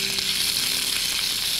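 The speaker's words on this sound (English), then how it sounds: "And we can begin stir-frying these" Loud, steady sizzling of marinated shrimp stir-frying in hot oil, close up, with a faint hum underneath and no talking.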